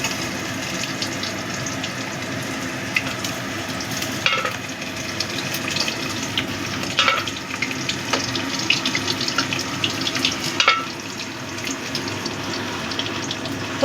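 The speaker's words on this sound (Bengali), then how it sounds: "ফোড়নটা একটু ভেজে নেব। এর মধ্যে আমি আলুটা আবার দিয়ে দিচ্ছি।" Potatoes frying in tempered oil with green chillies for a light katla fish curry: a constant close hiss and sizzle with occasional clinks and stirring knocks, no voice.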